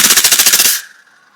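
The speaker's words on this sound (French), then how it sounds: "Et maintenant, on va passer au mode full automatique." An ASG AW308 airsoft rifle fires a rapid full-automatic burst of about a dozen sharp, evenly spaced shots at close range, then stops abruptly as the mechanism whirs down.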